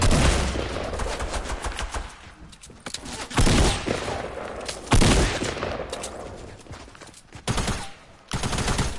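Gunfire in a PS4 shooter video game: loud, close bursts of rapid shots and single cracks in irregular clusters, with brief pauses between volleys.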